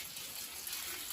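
Water pours steadily over a car during a home wash, a continuous, fairly close splashing gush with no talk.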